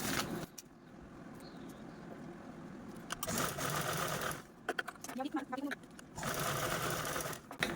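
A sewing machine stitches blouse fabric pieces together in bursts of fast, even, rattling running stitches, broken by brief pauses and handling noises, close by and clear.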